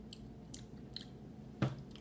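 Someone chews a bite of a peanut butter s'mores Pop-Tart up close, producing soft, faint crunching and squishing bursts spread through a quiet stretch, with one louder bite near the end.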